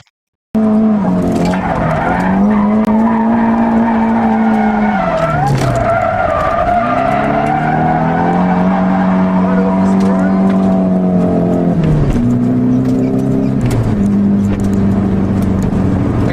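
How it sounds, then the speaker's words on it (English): A drift car slides under handbrake, its tires skidding in long, loud, wavering squeals that bend up and down in pitch while the engine drones beneath, continuous and close. "I used the handbrake to keep it sliding"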